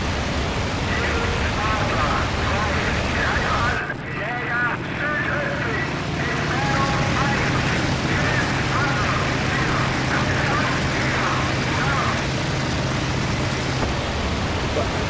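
FW-190 fighter engine in flight in the video game IL-2 Battle of Kuban, a loud, steady droning roar that dips briefly near four seconds, then carries on unbroken.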